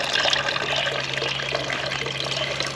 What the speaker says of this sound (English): I call this my raw farm water feature.